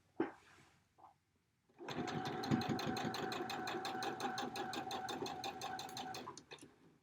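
A sewing machine stitches across a quilt block in one fast, even run of rapid needle strokes lasting several seconds, after a few short faint bumps.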